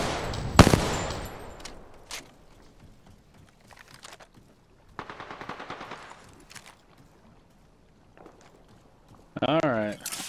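Video game gun battle with a sharp loud burst at the start, then scattered bursts of automatic fire and rattling, while players talk over it.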